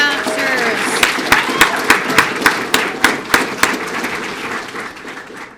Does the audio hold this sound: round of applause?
yes